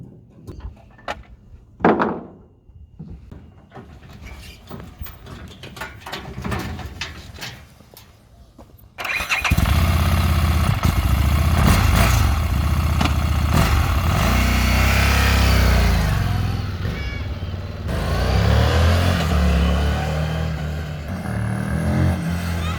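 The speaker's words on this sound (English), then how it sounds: "Here it is, the 2017 Harley Davidson Street Rod 750." A 2017 Harley-Davidson Street Rod 750 sits quiet amid a few clunks and handling noises, then its engine fires up loudly and settles into a deep rumbling idle with several swelling revs.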